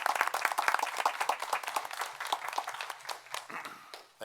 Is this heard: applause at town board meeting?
yes